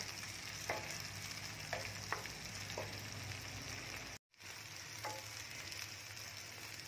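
Paneer cubes shallow frying in butter in a pan, a constant soft sizzle with a few light stirring scrapes and a brief dropout midway.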